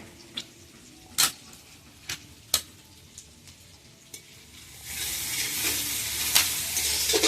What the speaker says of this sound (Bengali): মাংসটা এদিকে বানানোর জন্য পেঁয়াজ দিয়ে দিয়েছি কড়াই